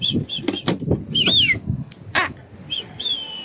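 A pigeon flapping its wings as it takes off and flies, with several quick, close bursts of wingbeats mixed with bird calls and short whistles.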